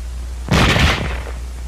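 A single sharp gunshot from a bolt-action rifle, loud and close, with a short rumbling tail that fades within about half a second. No voices.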